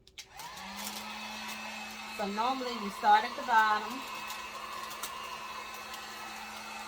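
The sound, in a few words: heat gun blowing on low setting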